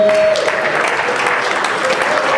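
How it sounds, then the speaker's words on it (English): An audience at a martial arts hall of fame induction ceremony gives a standing ovation, with loud, dense, steady applause filling the room and a faint background tone running beneath it. "please give yourselves a big standing ovation, big round of applause."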